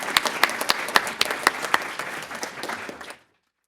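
A small audience at a university comics forum applauds, with individual claps standing out sharply near the microphone over a sparser background patter, lasting about three seconds before stopping cleanly.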